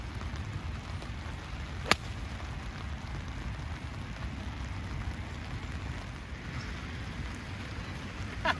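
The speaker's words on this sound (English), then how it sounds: "It's raining too much" Heavy rain falling on a golf course, a steady close wash of patter and hiss throughout, with a single sharp tick near the start and no voices.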